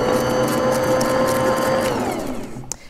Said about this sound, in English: let me go ahead and mix up the dry ingredients